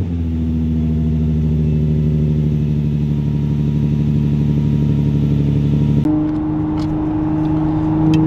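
A Nissan 350Z with a Z1 mail-in tune drones steadily at cruise, a loud, even exhaust note heard from inside the car, then the pitch and tone shift abruptly near the end as the gear or throttle changes.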